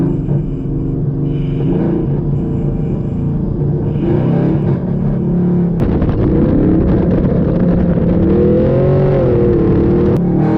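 A full-bolt-on Chevrolet Camaro SS roars under hard acceleration from inside the car, a loud, steady V8 drone that climbs through gears, with a sharp shift break midway and rising pitch sweeps.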